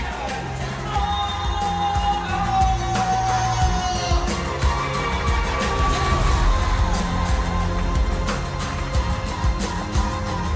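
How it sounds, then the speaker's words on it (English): An esports crowd cheers and applauds for team Todak at an MPL Malaysia match. It is a loud, sustained roar of whoops and shouts with clapping and music underneath. "give a round of applause for Todak!"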